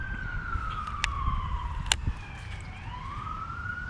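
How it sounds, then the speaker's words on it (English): Sirens of emergency vehicles wail in the distance while someone is out fishing, rising and falling tones sweeping over a low background rumble, with a few sharp brief sounds nearby. "Why does it seem like everywhere I go, there's sirens?"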